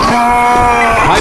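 A Charger zombie in the video game Left 4 Dead 2 lets out a single short, loud, guttural growl up close, with no speech.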